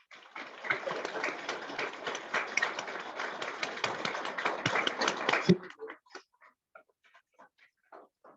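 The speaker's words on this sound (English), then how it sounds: "So let's have a round of applause." An audience at an awards dinner applauds an honoree with dense, sustained clapping for about five seconds, then it breaks off into a few scattered claps.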